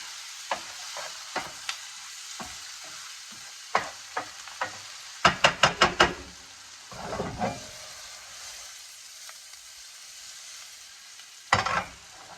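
Stirring softened onions with a bay leaf in a pot for Portuguese tomato rice: several distinct scraping strokes and clustered spoon scrapes against the pot, with soft sizzling underneath, close and moderately loud with quiet gaps between.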